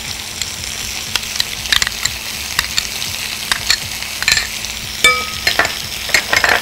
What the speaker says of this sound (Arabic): المشروم بتاعي استوى والبرجر قرب يخش في السوا